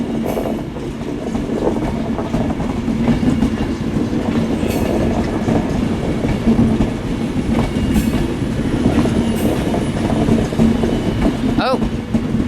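A Northern passenger train rolls slowly through Manchester Piccadilly station, with a steady close rumble and rail clatter throughout and a brief wheel squeal near the end.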